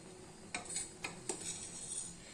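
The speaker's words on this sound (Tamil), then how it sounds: "இப்போ மட்டும் அப்படியே லைட்டாக கிளறி விடுங்க." A spoon stirs coconut milk kolukattai dumplings in a cooking pot, three sharp metallic clinks against the pot wall over a quiet bubbling background.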